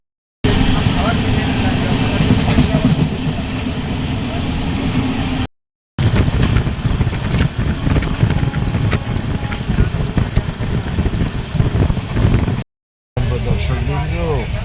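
A long-distance passenger train on the Amritsar to Howrah route rumbles along at speed, a dense steady roar broken by two short cuts, with no speech heard.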